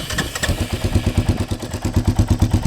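Modified Royal Enfield Meteor 350 motorcycle engine idling, a close, loud, rhythmic thumping pulse that repeats evenly at a steady beat.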